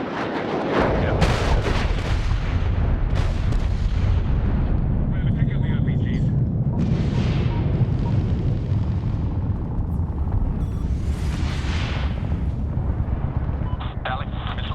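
Bombs from an airstrike explode in the war shooter Medal of Honor, a heavy continuous rumble of blasts with aircraft noise, under radio chatter.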